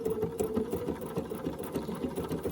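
A sewing machine stitches through a quilt, running with a steady, close, humming mechanical whir and rapid needle chatter throughout, with no talking.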